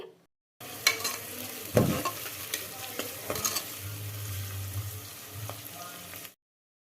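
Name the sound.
chopped onions and curry leaves frying in oil in a cooker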